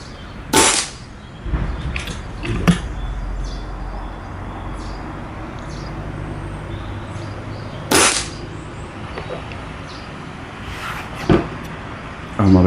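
Shots from an FX Panthera Compact .25 caliber air rifle fired at a target, three sharp, loud cracks spaced several seconds apart, with quieter handling clicks between them and no talking.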